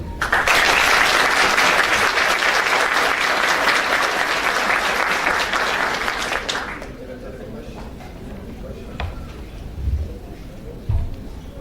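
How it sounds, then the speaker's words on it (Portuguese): An audience at a talk applauds a speaker coming onto the stage, loud sustained clapping from many hands that fades after several seconds, leaving quieter room noise with a few soft thumps. "Palmas, por favor"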